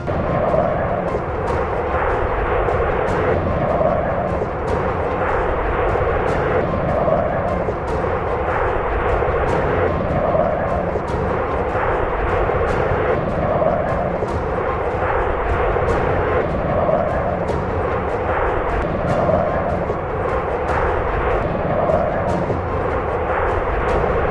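B-17 bomber engines drone in flight as a loud, continuous, rumbling roar with a regular pulsing beat, filling the whole clip without a break.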